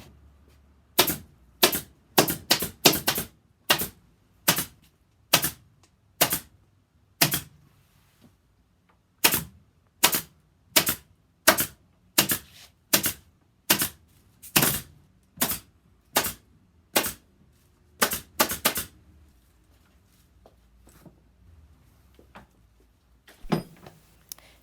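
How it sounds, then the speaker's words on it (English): A staple gun fires staples through 2-inch foam into a wooden headboard, a long series of sharp, close snapping clicks at an irregular pace, some in quick clusters and others spaced apart, fading out near the end. "So you can go ahead and staple the 2-inch foam along that line that you made."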